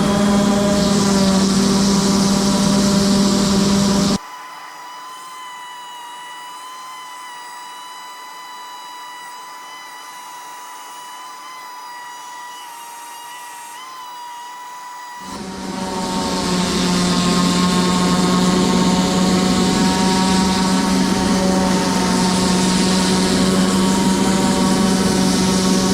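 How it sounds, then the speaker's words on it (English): A power sander works over a wooden Christmas sign with a loud, steady motor whine. The whine drops to a quieter hum midway, then swells back to full strength. "I'll sand all of it with the big sander here"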